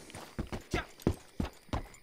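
Horse hooves clip-clopping at a steady walk in Red Dead Redemption 2, six evenly spaced, close hoofbeats alone with no talk.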